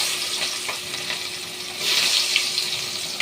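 Onions dropped into hot oil for fish sizzle with a steady broadband hiss, getting louder and brighter in the second half, with a few faint clinks and no talking.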